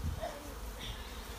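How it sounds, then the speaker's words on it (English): Honeybees buzz steadily and close while a nuc is moved into a full hive, a dense, continuous hum with no voices. "I don't want to hurt any bees"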